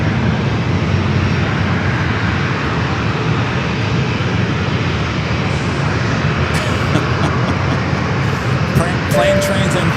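Lufthansa A350 airliner taxiing at San Diego airport, a loud steady jet engine roar filling the whole stretch, with a voice talking over it near the end.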